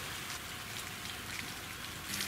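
Steady rain patters down on a riverside tent campsite in a dense, even hiss, with soft drips scattered through it and a slight swell near the end.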